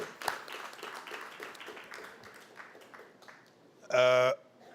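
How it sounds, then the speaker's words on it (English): At a panel on loss and damage partnerships, a round of applause for Carla breaks out as scattered claps that thin and fade, then a short electronic tone sounds near the end. "So give a round of applause, Carla."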